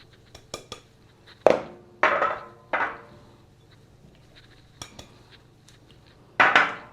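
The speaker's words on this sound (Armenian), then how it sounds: "Հիմա մեր համեմունքները կխառնենք այս ամանի մեջ։" Spoons and metal clatter against a bowl as spices are mixed by hand for a brine of garlic, sugar and water, giving a series of sharp, irregular knocks and scrapes spaced over several seconds in a quiet room.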